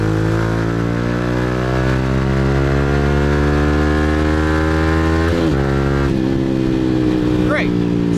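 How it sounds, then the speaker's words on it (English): Sports bike engine droning steadily while riding through Saigon traffic, a loud sustained tone that shifts pitch slightly, with a brief rev change near the end. "So, I'm on a sports bike, right?"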